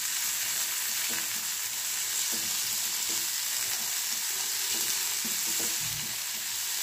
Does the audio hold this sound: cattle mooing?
no